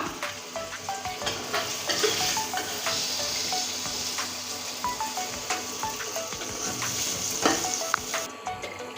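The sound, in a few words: potatoes frying in oil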